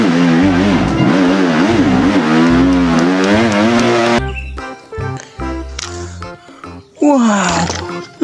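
A toy motocross motorcycle gives off a loud, steady, wavering engine-revving drone for about four seconds, then breaks into choppier bursts of revving with brief gaps.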